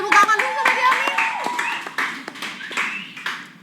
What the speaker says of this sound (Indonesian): Boleh tepuk tangan dulu sama Yami.